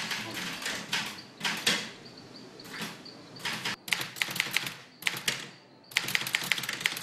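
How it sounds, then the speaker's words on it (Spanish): An old manual typewriter clatters in quick bursts of keystrokes with short pauses and a soft carriage ding, close and clear in a quiet room. "Esta vieja máquina de escribir es una de sus pocas posesiones."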